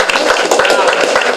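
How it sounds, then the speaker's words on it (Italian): Audience applause at a school event, a dense burst of hand claps with sharp broadband transients running throughout, loud and close, filling the whole short stretch with no speech. "Un applauso, bravissimo."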